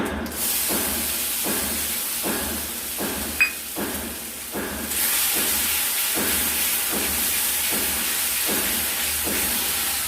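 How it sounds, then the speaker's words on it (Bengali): Ground spice paste goes into a hot pan while cooking banana flower with potato and pointed gourd, giving a loud steady steaming hiss with rhythmic scraping strokes, swelling louder midway and continuing alone. "এবার আমরা বেটে রাখা মশলাটা দিয়ে দেবো"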